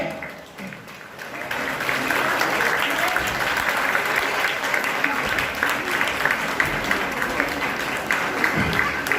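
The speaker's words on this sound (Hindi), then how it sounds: "जोरदार तालियों के साथ में उनका स्वागत करेंगे" A crowd at a Bhim Sankalp Diwas stage play in Morna, Noida applauds to welcome a performer. After a brief quieter start the clapping swells into dense, sustained applause that holds steady at full strength for several seconds.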